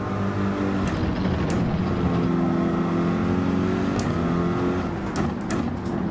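Racing car engine in Gran Turismo 7 droning steadily and loudly at high revs throughout, with pitch rising and falling through gear changes during a close race, alone with no talk.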